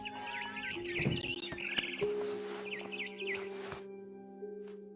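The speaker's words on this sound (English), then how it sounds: "Then I heard chirping outside my window" Bright, quick barn swallow chirps and tweets repeat in short bursts over a steady background hum, with synthetic, game-like tones underneath, from the video game What Remains of Edith Finch.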